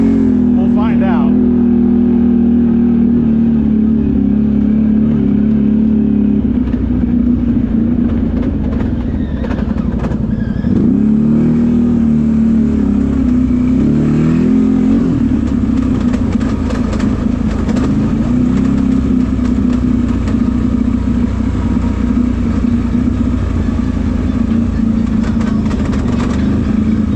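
A CFMOTO off-road vehicle setting off on a trail, its engine droning loud and close, shifting in pitch as it pulls away and then holding a steady hum, with a voice heard over it early on.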